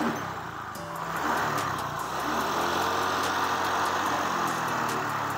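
A Honda Vario 125 scooter engine running steadily and evenly after ECU repair work, a continuous close mechanical hum with faint rhythmic ticking over the top and no talk.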